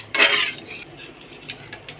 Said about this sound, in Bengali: এটা অনবরত নাড়াচাড়া দিতে হবে নয়তো তলে লেগে যাবে